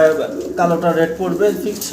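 Pair of pigeons at a farm cooing in repeated soft throaty phrases, close and clear, with someone talking over them.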